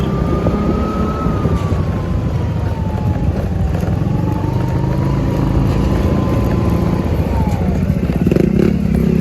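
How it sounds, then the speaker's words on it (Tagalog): A motorcycle engine runs steadily throughout while riding out on a food delivery, a continuous loud drone with a slowly shifting pitch and rattling clatter, wind and road noise heavy over it. "Sama natin si Bumblebee, ating motor."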